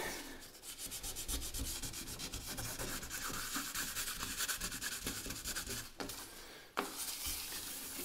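Steady wet scraping and rubbing, 1500-grit sandpaper stroked rapidly back and forth on a 1920s Prentiss-Wabers Auto-Cook-Kit in a fast rhythm, close and continuous with a couple of brief pauses.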